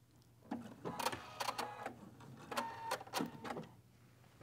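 A sewing machine stitching quilt strips together at a shortened two-millimetre stitch length during strip piecing. It runs in several short, close bursts with brief pauses between them.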